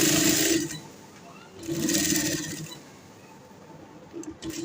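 A sewing machine runs in two short bursts while stitching boot piping onto a slit neckline, with a quiet pause between them and light handling noise afterwards.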